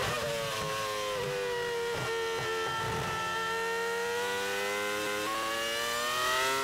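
A BAR Honda Formula 1 car at full throttle around Suzuka circuit, heard onboard: a loud, high-pitched engine wail climbing steadily through the gears with brief dips at each shift.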